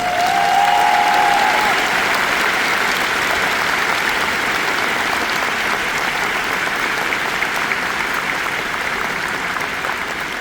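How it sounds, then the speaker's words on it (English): A large crowd at a D23 fan-convention panel celebrating songwriter Richard M. Sherman applauds loudly and continuously for ten seconds, a brief whistle-like tone rising over the clapping at the start. "So how about a special applause for them?"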